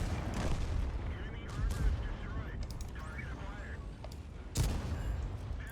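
Artillery shells fire and land in a World of Tanks battle around a Type 62 light tank, with heavy booms at the start and again near the end over a constant rumbling engine and battle noise, and a voice talking at times.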